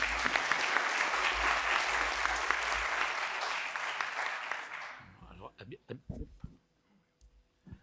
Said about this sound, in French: Habituellement, les applaudissements, c'est après